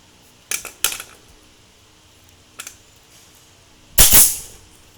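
A pneumatic fastener gun fires into rattan in a few sharp, separate bursts: a couple close together, another a moment later, and a louder hissing shot near the end, over a quiet background.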